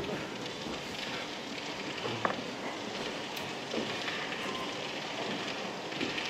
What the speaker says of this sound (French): Quel déluge!